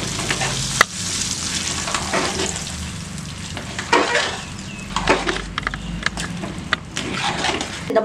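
Hot spice tempering poured into sambar rice, a sizzling, bubbling hiss with scattered clinks and stirring knocks from a nearby pot.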